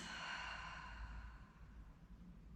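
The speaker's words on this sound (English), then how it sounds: "Taking a nice cleansing breath in through the nose" A slow cleansing breath exhaled through the mouth during a hatha yoga session, one soft, airy whoosh that gradually fades away, quiet and close with no talking.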